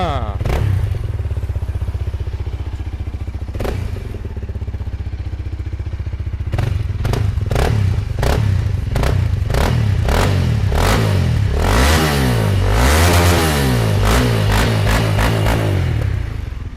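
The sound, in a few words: Honda Rebel 300 motorcycle engine starting and revving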